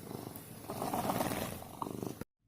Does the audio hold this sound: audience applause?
no